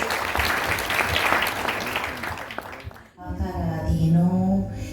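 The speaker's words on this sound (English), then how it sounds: "Let's give him a round of applause to show him how much we mean that." Applause from an audience at a tent campaign gathering, dense clapping for about three seconds that cuts off abruptly, followed by a voice chanting or singing alone.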